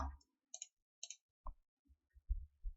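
Sharp, isolated clicks of a computer mouse during a payroll software simulation, a few spaced taps early on followed by softer knocks, close and quiet with no talking.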